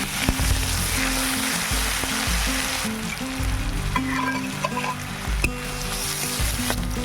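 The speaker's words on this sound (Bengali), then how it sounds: "কড়াইতে তেল, পেঁয়াজ আর কাঁচা লঙ্কা দিয়ে ভালোভাবে ভাজা করে নিতে হবে।" Onion and green chillies sizzle in oil in a kadai for a pui shaak and potato dish, giving a loud continuous frying hiss with scraping stirs and a steady low hum underneath.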